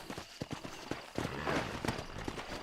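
Horse hooves clip-clop in Red Dead Redemption, an irregular run of close, soft thuds that blend into a quicker, busier patter partway through, with a brief voice underneath.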